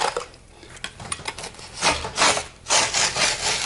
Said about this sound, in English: You see how that blade is sticking in there now, sliced right through there without a problem